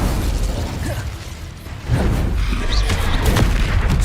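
Casting the Incendio fire spell in Hogwarts Legacy sets off a loud whooshing burst with crackling pops and a bright sizzle, following a brief quieter lull, and it sounds close.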